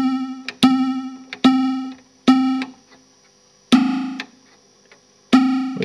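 A synthesizer snare patch shaped by an LFO gives sharp, pitched percussive hits with short ringing tails, six strikes in an uneven pattern, loud and dry with no talking.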